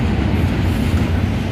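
Norfolk Southern freight train passing through Elmira, New York, its engine and cars rolling by with a loud, steady rumble and dense wheel noise, continuous throughout with no voices.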